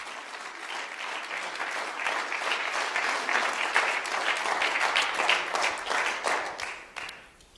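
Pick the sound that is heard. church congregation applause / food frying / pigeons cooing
church congregation applause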